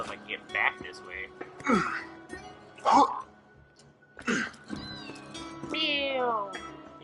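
A voice imitating a cat's meow, several drawn-out meowing calls with pauses between them, heard close up during Borderlands 2 gameplay alongside a person talking.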